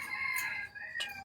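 A voice imitates a rooster's crow, a short rising-and-falling call close by, then breaks off abruptly.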